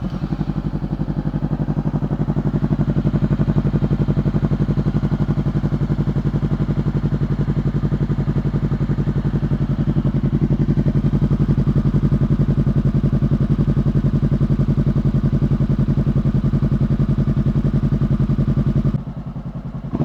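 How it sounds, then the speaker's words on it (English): A Honda CB500X with a Leo Vince GP Corsa slip-on exhaust, baffle removed, runs steadily with a low, throaty thrum and mechanical clatter, holding a constant note before the pitch drops slightly near the end. "now this is going to be the GP Corsa slip-on without the baffle in"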